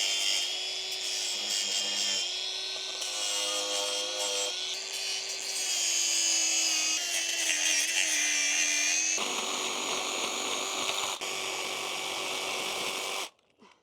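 Angle grinder scores a piece of wood while a gravel base is prepared for a hot tub, a steady whining buzz with shifting pitch and gritty cutting noise, close and continuous before stopping abruptly.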